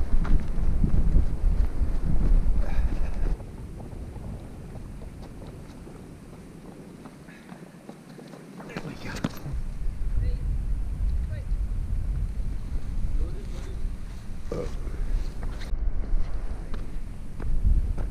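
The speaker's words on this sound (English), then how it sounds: "The wind is pushing me." Strong outdoor wind buffets the microphone along a route near Hay-on-Wye, Wales, loud and roaring at first, easing for a stretch, then gusting up again.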